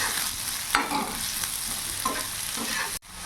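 Long strips of potato frying with onions in a hot pan, a continuous sizzle broken by several stirring scrapes of a spatula, then a sudden brief cut-out near the end.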